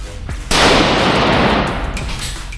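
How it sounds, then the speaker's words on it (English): A single sharp, loud report from an SKS semi-automatic carbine fires close by, and its blast rings out into a decaying echo lasting about a second. "My experience shooting the SKS was quite different."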